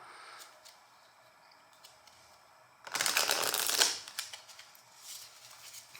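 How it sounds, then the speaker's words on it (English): A deck of cards for the Lawyer Up solo game is shuffled once, a brisk riffling burst of about a second, close and fairly quiet against a soft background. "Do some light shuffling."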